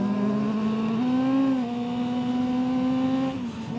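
A 250cc motorcycle engine revs hard and high-pitched toward 20,000 RPM, its screaming whine stepping up and down in pitch before easing off at the end.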